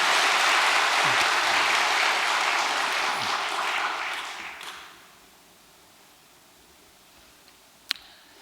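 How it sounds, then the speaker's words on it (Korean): A church congregation applauds in thanks at a dedication ceremony, with loud massed clapping for about four seconds that tapers off and stops, leaving quiet room tone and a single sharp click near the end. "우리 승리하신 참 부모님께 감사의 박수를 한번 보내 올리십시다"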